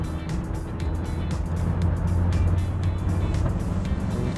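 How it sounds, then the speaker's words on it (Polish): A Volvo V70 D5 diesel accelerates hard in fifth gear while overtaking, heard from inside as a steady, loud engine drone and road roar that builds slightly across several seconds. "Auto dynamicznie wyprzedziło na piątym biegu."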